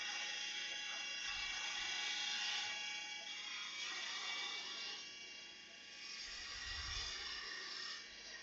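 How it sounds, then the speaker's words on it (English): A skew chisel cuts a wooden honey dipper spinning on a lathe, giving a fairly quiet, continuous scraping hiss with a faint low rumble swelling in short bursts. "So we'll go back to the skew chisel now."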